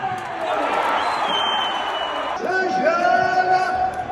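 Arena crowd at a UFC fight roaring and cheering for Paddy Pimblett after the decision, a loud continuous wash of voices with whoops rising near the end.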